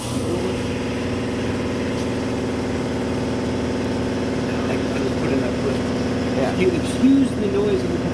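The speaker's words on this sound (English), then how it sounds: "Excuse the noise of the compressor." An air compressor runs steadily in a tire shop, a continuous droning hum close by, while people speak over it and small clanks sound near the end.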